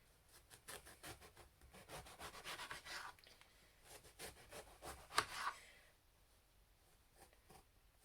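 A serrated knife saws through an aubergine into thick slices, giving soft rhythmic rasping strokes up close, then a sharper crunch as the blade breaks through before quieter handling.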